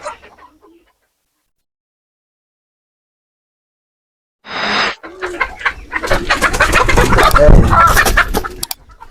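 A rooster with a cold and farm chickens break into loud clucking and calling after a long silence, the calls growing dense and overlapping toward the end.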